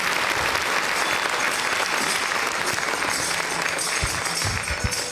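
Steady, dense applause from an audience at an awards ceremony greets a speaker coming to the stage, a continuous close wash of many hands clapping with no talk over it.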